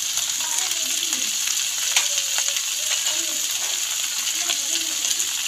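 Chopped bottle gourd with salt, turmeric and split green chillies sizzles in a hot pan while being stirred, a steady bright frying hiss with soft scraping knocks from the spoon.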